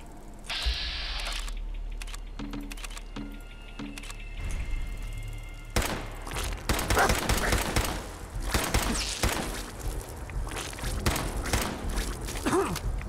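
Gunfire in Fallout 4 against raiders: after a few mechanical clicks and beeps, a rapid volley of sharp shots and impacts erupts and keeps going in dense bursts, loud and close.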